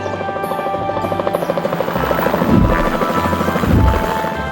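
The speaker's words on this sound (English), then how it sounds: "The helicopters are airborne." Toy rescue helicopters take off with a steady, rapidly pulsing rotor buzz, loud and continuous, swelling twice as they lift.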